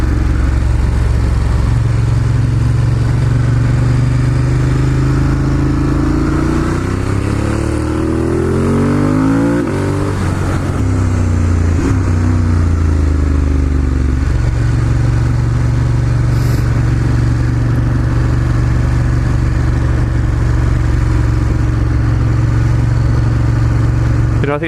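A Ducati Monster 1200S with a big V-twin engine roars loudly and close, the revs climbing and falling as it accelerates hard through gears, with a deep, steady throb throughout and wind rush underneath.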